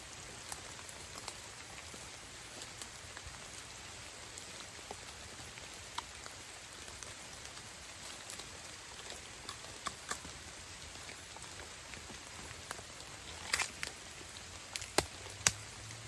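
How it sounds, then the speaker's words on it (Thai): Rain falls steadily outdoors on a wet day while bamboo shoots are gathered, a constant soft hiss with scattered drops tapping nearby surfaces, quiet and even throughout. "ฝนเทมาอีกแล้วพี่น้อง"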